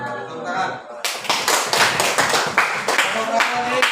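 An audience in a classroom teaching session claps together after a group presentation, a brisk run of dense handclaps that starts abruptly and keeps steady and fairly loud to the end.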